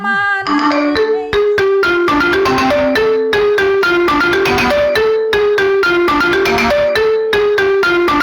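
A mobile phone rings with a loud melodic ringtone, bright repeated tonal notes playing in a steady rhythmic pattern, close and alone.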